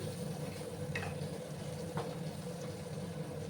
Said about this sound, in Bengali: এবার ভালো করে আমি নাড়াচাড়া করে দিলাম।